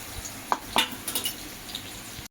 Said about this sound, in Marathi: कांदा आपला परतत आहे